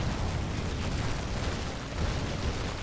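Fireballs burst continuously in the game Lara Croft and the Guardian of Light, making a dense, rumbling roar of explosions with no pause or quiet gap.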